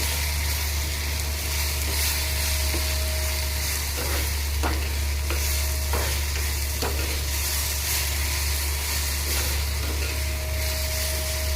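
Chili powder and Kashmiri chili powder fry in a pan with softened tomatoes, giving a loud, steady, close sizzle with occasional scraping strokes as the spices are stirred, no talking.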